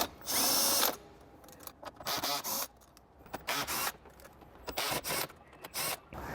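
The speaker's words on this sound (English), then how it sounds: "So let's go ahead and remove all these 4 10mm bolts." A cordless power drill spins out 10mm bolts inside a Toyota Prius V, several short whirring bursts of varying length separated by pauses, close and loud with no talking.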